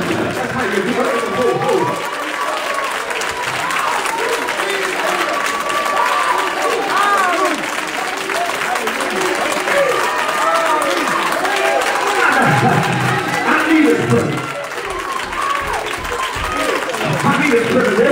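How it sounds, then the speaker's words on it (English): A church congregation at a youth evening service claps and cheers in a dense, continuous crowd roar, with voices shouting throughout and loud, sustained applause filling the space. "start clapping their hands and calling on Jesus"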